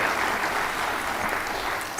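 An audience at a South African public event applauds, a dense, even wash of many hands clapping at once throughout.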